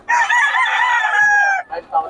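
A rooster crows once near and loud in a single long drawn-out call lasting well over a second, followed by brief softer clucks or call fragments, amid a Filipino market setting where game fowl are being sold.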